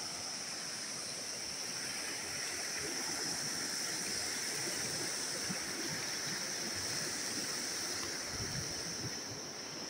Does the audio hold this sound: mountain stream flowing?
yes